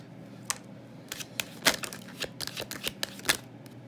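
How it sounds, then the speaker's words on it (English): Tarot cards being shuffled by hand, a quick sequence of crisp papery riffles and taps in irregular bursts, close and fairly quiet. "Just doing a quick shuffle."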